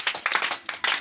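A church congregation claps together, a brief burst of brisk, rhythmic hand claps close by, with a short pause before the clapping picks up again.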